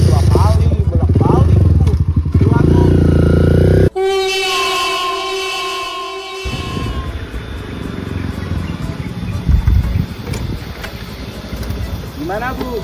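A motorcycle engine runs close by with a steady, buzzing drone. It comes between stretches of people talking loudly.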